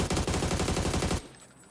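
A rapid burst of automatic rifle fire in the video game PUBG, evenly spaced loud shots for over a second, then stopping abruptly into quiet.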